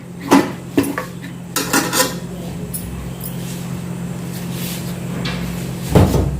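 Patrode rolls of colocasia leaves being set one by one into an idli steamer pot and the lid put on, giving a few sharp metallic clinks and knocks near at hand over a low steady hum.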